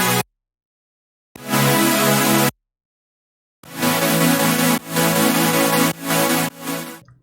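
Five stacked saw synth leads with voicing and EQ from a melodic dubstep remix sound together in bright, buzzing bursts, several short loud phrases cut by sudden silences.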